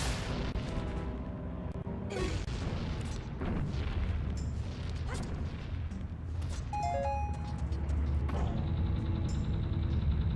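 A bomb goes off in Zelda: Majora's Mask with a booming blast, buried in dense, continuous game music and effects that stay loud throughout.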